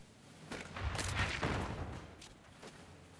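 Artillery fire in the video game Battleplan, a few muffled booms and blasts rumbling across about two seconds at moderate distance, then fading to a quieter battlefield background.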